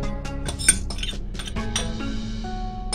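A spoon clinks and scrapes against a bowl as Anzac cookie ingredients are stirred into a syrup mixture, giving several light, irregular taps close up with no talking.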